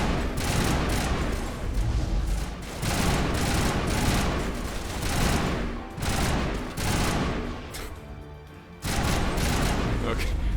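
Dense, continuous gunfire from a firefight against Krogans in the Mass Effect 1 video game, loud bursts of shots and booms packed together with brief lulls, close and overwhelming, with a player talking at moments.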